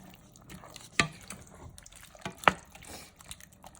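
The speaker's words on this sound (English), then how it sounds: "Stir that in," Mexican-style chili with beans and juice being stirred in a pot, a few wet sloshing stirs with two sharper clinks of the spoon against the pot, close and fairly quiet.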